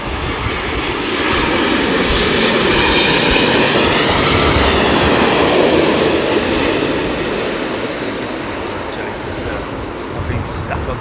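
Jet airliner coming in to land in a crosswind at London Heathrow, a loud sustained engine roar that swells and fades across the whole stretch, steady and close.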